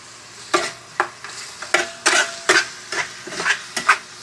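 Ginger sizzles in a frying pan while a spatula scrapes and stirs it in a steady rhythm of about two strokes per second, close and clear with no talking.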